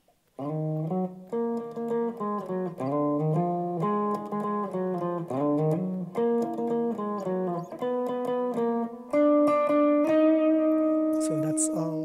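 Lead guitar line from the song Nadie Como Tu, an IBC version, played as a run of clear melodic notes with steady rhythm, ending in longer held notes, close and moderately loud with no talk over it.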